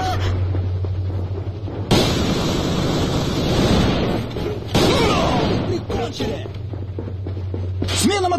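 Grenade blasts in Alliance of Valiant Arms, a military shooter: loud, wind-like bursts of noise hitting around two and five seconds, each trailing into a rough, washing decay over a steady low hum, with a voice speaking in between.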